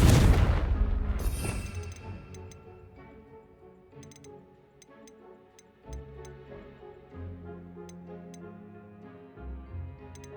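A Confringo explosive spell going off in the video game Hogwarts Legacy: one loud booming blast at the start that fades into a rumbling tail, followed by quieter game music and small ticking effects.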